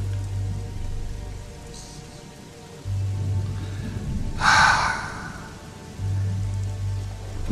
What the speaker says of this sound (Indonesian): Hujan yang kayak gini sih bakal lama nih.